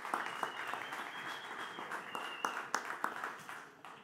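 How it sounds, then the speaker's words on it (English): An audience at a South Summit 2019 deeptech conference panel gives a round of applause, a dense burst of clapping that gradually thins out. "Let's give them a round of applause."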